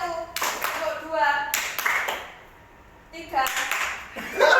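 A classroom of students claps in short rhythmic bursts, loud group claps in a counted pattern separated by brief pauses, close and lively.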